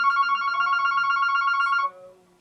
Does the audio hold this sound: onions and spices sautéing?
no